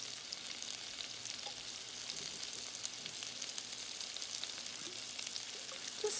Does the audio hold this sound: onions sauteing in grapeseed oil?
yes